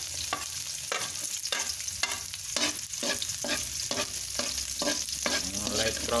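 Garlic and then onion sauté in hot cooking oil in a pan for ginisang patola, with a steady loud sizzle and repeated scraping strokes of a spatula stirring the pan close up.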